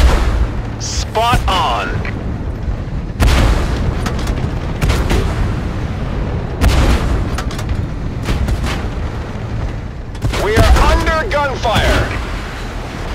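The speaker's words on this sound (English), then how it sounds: "We are under fire." Booming cannon shots and explosions from the tank combat game Tank Force Modern War, several heavy blasts spaced apart with rumbling tails, mixed with in-game radio voices talking between them.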